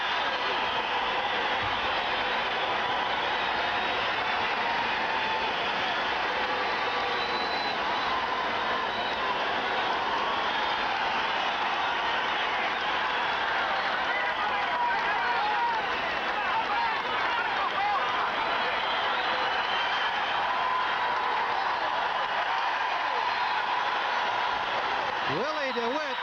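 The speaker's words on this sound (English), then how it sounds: "you're listening to the reception for Canadian champion Willie DeWitt" Nearly 7,000 fans at a Regina arena roar in a sustained, dense cheer as Canadian heavyweight champion boxer Willie DeWitt is welcomed before his bout with Bert Cooper, a steady wall of crowd noise throughout.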